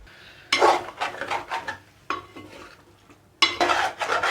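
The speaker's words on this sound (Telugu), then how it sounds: "గ్రైండ్ చేసి ఉంచుకున్న టమాటా పేస్ట్ వేస్తున్నాను" Ground tomato paste goes into chicken curry for an Andhra-style dish. Three loud bursts of close stirring scrape a metal pan, separated by short near-silent gaps.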